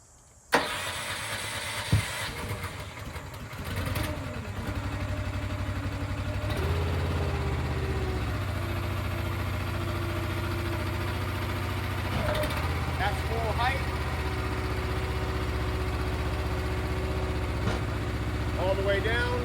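A firewood processor engine, an SF11/16 machine, cranks and catches, then settles into a steady, close idle with a low rumble and a few shifts in pitch while someone speaks faintly over it.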